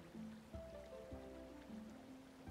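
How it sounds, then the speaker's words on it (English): Soft, steady rain in the video game Paleo Pines, a faint diffuse hiss under quiet sustained game music tones. "Oh, that's a cool mechanic, Paz being blocked by rain"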